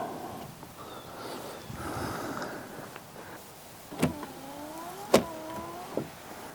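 Windshield wipers on a 2003-2007 Honda Accord with newly replaced wiper linkage sweep back and forth, the motor giving a whirring tone with sharp clunks as the arms reverse, close and fairly quiet.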